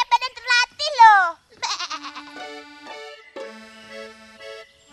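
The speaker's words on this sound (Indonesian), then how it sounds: "Dia kambing yang sangat hebat dan terlatih loh." A trained goat bleats in a few quick, wavering cries at the start, followed by children's voices talking over a quieter, steadier call.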